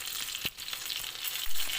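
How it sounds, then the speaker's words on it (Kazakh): Homemade chicken nuggets fry in a pan over low heat, a steady close sizzling hiss with a brief knock partway through, and no talk. "табаның қақпағын жауып, асықпай қуырып аламыз"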